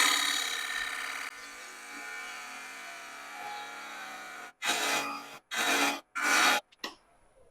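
A lathe turning tool cutting Russian olive wood in short interrupted bursts: a hissing, scraping cut that fades, then three loud separate passes with brief silent gaps between them.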